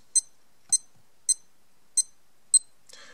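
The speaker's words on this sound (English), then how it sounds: "it means that it will beep through the functions" A Seiko Prospex Solar SNJ025 digital watch beeps five times at a steady pace, short high-pitched chirps close up, followed by a brief soft click.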